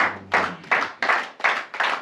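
A church congregation clapping together in acclamation during worship, a run of about six loud, fairly regular bursts of claps with a low hum underneath.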